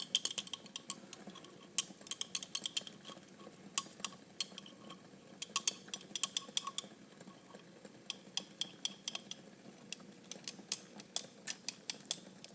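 A test tube holding a copper reaction mixture is stirred, giving quick, light glassy clicks and taps in an irregular rhythm, close and fairly quiet, with no voices.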